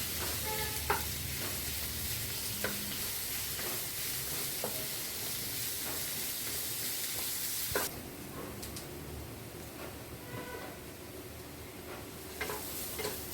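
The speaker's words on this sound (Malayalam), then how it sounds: "2 പച്ചമുളക്, വശക്കിയെടുക്കാം." Two green chillies sauté in a pan with a steady, bright sizzle and hiss, while a spoon scrapes and taps now and then; the sizzle drops somewhat quieter partway through.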